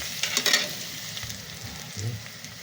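Chili, onion and garlic frying in a pan for chicken wing sauce, a soft steady sizzle with a few brighter crackling bursts early on and a low stirring thump near the end, no voices.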